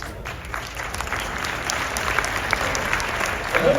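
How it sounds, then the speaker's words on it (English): Live seminar audience of about 500 people in Italy clapping steadily, a dense continuous wash of applause that holds through the whole stretch, with a few faint voices underneath. "I want applause."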